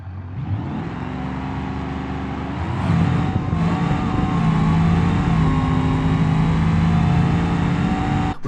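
A ProCharged Moonhawk drag car in a racing game makes a full-throttle pass, its supercharged engine droning loud and steady and then rising in pitch as it accelerates hard through the run, with no talk over it.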